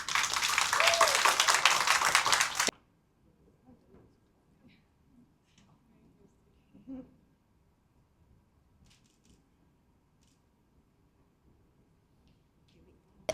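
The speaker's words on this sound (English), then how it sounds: "can we give the three of them one more final round of applause?" A conference audience gives panelists a final round of applause, a dense burst of clapping for about two and a half seconds that stops abruptly, followed by near silence with faint room noises.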